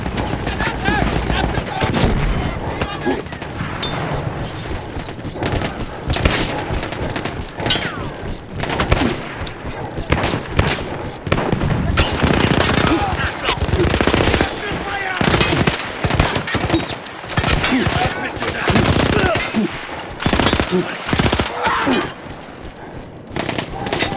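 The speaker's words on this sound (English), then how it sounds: "I had to remove them before I could use the gun myself." A machine gun in Battlefield 1 fires long, rapid bursts of loud close gunfire, broken by short pauses, with scattered booms and other battle noise mixed in.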